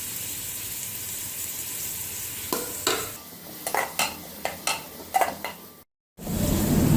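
Ginger garlic paste fries in about half a cup of cooking oil for kofta gravy, a steady soft sizzle with a series of sharp spoon stirs and pan clinks, then a brief cut and a louder sizzle.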